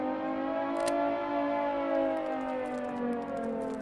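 An island warning siren in the game Stormworks drones steadily and loudly in a wavering, sustained wail, with a few faint clicks and taps over it.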